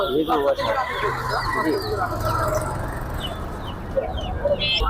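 Chickens clucking and a rooster crowing at the crowded Kaptan Bazar poultry market, with a lively chorus of birds close by and people talking over it.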